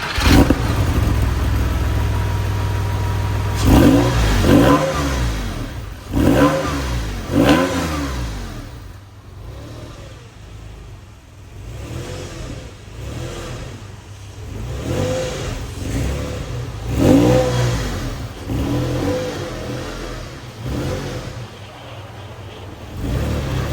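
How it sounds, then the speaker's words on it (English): A Porsche 996 fitted with a modified exhaust revs repeatedly in sharp, rising bursts, close and loud, with short pauses between blips and a steady idle underneath. "let's listen to that exhaust"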